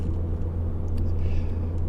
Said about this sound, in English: It's got an aftermarket exhaust on it, and just a little bit tinny in the exhaust